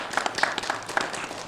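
Audience applause at a body positivity panel during the Anime Banzai convention, a short burst of scattered hand claps echoing through a room with no talk over it.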